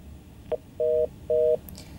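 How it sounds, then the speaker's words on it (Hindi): Telephone line tone after a call drops during a Hindi TV news phone-in, heard as one short beep and then two longer steady tones about half a second apart, clear over a quiet background hiss. "नलिन कोहली जी का फोन कट गया।"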